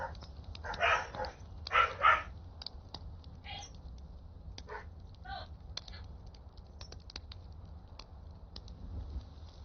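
A pair of dogs, the speaker's own and a neighbour's, bark in a few short bursts near the start, then give way to fainter, scattered yips over a steady low background hum.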